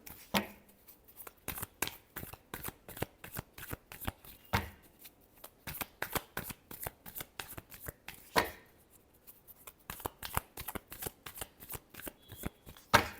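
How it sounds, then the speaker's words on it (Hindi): A deck of tarot cards shuffled by hand close up, with rapid, repeated riffling and slapping strokes in uneven bursts and brief pauses between them. "Last shuffle."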